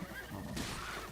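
A single short horse whinny from Breath of the Wild, close and fairly loud, rising and then breaking into a breathy snort over faint game background.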